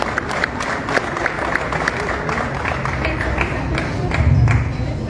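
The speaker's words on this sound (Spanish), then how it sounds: "Un aplauso para todos ustedes," An audience at a livestock expo event in Mexico claps steadily, a dense even patter of applause from a crowd in a hall, swelling slightly toward the end.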